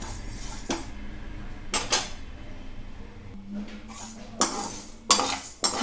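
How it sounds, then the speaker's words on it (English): Dry roasting ingredients in a pan for tomato chutney: a metal spoon or spatula scrapes and clinks against the pan in repeated bursts of stirring, close and fairly loud, with quieter pauses between strokes. "For 5 minutes we have to dry roast these ingredients."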